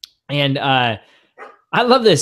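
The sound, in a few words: dog barking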